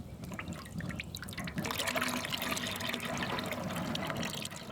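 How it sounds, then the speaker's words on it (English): A freshwater spring bubbles behind Fort Clatsop, its water trickling and gurgling softly and continuously at close range, growing a bit fuller partway through. "the freshwater spring bubbling right behind the Fort Clatsop"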